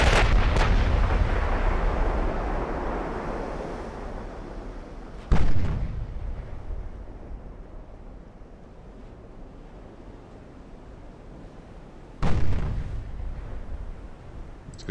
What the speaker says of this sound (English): here come our 8-inch guns